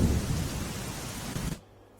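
Heavy, steady rain pours down in Gujarat as a dense broadband roar for about a second and a half, with a low rumble underneath, then cuts to quiet.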